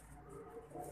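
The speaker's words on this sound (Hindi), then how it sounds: "कबूतर बोलता है इसके" Pigeon cooing from a young bird with leg wires, a soft low coo close by over faint background hum, lasting about a second.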